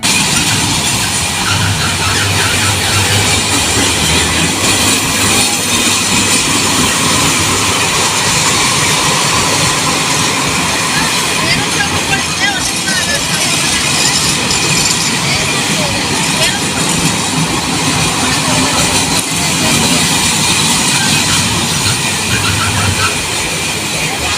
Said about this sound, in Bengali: এটা হচ্ছে রোলার কোস্টার জনপ্রতি ষাট টাকা টিকিট মূল্য আসেন কিছুক্ষণ রোলার কোস্টার উপভোগ করি